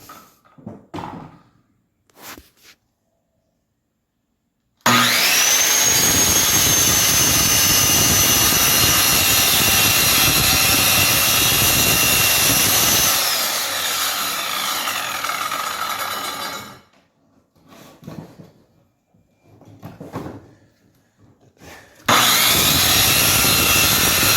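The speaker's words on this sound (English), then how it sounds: "your clamp at the bottom, and then you glide the saw up" Circular saw ripping a straight cut through a wood board clamped at top and bottom: a loud, steady whining run of about twelve seconds that drops in pitch as it spins down, with brief handling knocks before and after and a second start at the end.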